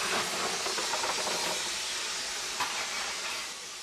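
Steam hisses steadily from a steam locomotive's boiler, a loud, continuous broadband rush that holds nearly constant before easing slightly at the end.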